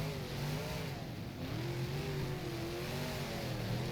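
IMCA Modified race car engines in rFactor at Volusia, a steady droning roar with pitch that rises and falls as the cars lap, loud and continuous with no talk.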